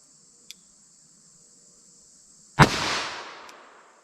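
A single sharp .38 Special +P shot from a 4-inch barrel revolver firing 158-grain lead semi-wadcutter hollow points at a ballistic test, a loud crack with a decaying roar, preceded by faint insect chirping and a small tick.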